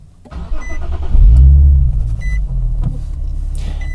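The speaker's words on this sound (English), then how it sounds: "the first thing we're going to do is start the car." A car engine cranks and catches, settling into a steady low rumble at idle, with an OBD scanner plugged in under the dash; the start is loud and close.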